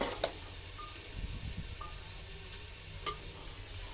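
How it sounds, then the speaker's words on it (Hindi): Fried onion tempering (baghar) poured into leftover nihari gives a steady, close sizzle with a few sharp metallic clinks of a utensil, and no one speaks. "हाँ, मैं लगा रही हूँ नहारी के अंदर भगार।"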